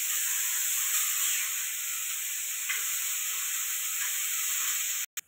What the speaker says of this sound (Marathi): हळद टाकायची. आणि अशी परतून घ्यायची 4-5 मिनिटं.